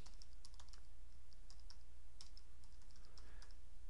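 Quiet computer keyboard typing during data entry, scattered light key clicks in short bursts over a low steady hum.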